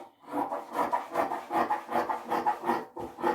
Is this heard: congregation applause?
no